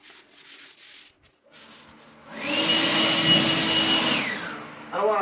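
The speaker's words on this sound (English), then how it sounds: "Less is more when you're just scuffing it before painting." Sticky-back sandpaper is rubbed by hand across car paint to scuff it before repainting, a Dodge Neon, giving a loud, steady abrasive rasp that lasts about two seconds after quieter handling noises.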